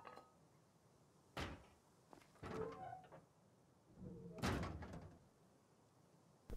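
A wooden door being placed in the survival game Rust, heard as a couple of sharp knocking thuds and a rattling clatter spaced across a few seconds, with no talk over them.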